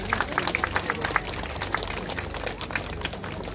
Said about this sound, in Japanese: 拍手お願いします。